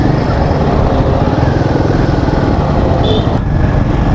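Motorcycle ridden along a smooth road near Kolkata on the way to Piyali Island, with a loud, continuous engine drone and heavy wind rush throughout, close up, and no talking.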